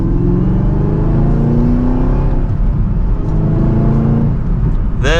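A 2023 Chevrolet Camaro ZL1 pulls hard from second gear, its engine note rising steadily under heavy throttle in a loud, continuous exhaust roar heard from inside the car, with no talking.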